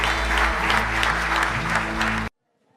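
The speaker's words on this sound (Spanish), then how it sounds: "Le damos un fuerte aplauso a nuestro Dios." A church congregation applauds, dense steady clapping filling the room at close range with a sustained organ or keyboard chord beneath, then cutting off abruptly to near silence.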